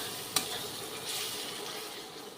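Chicken kosha being stirred in a pan, a steady soft sizzle with one sharp scrape of the spoon early on, close and alone with no talk.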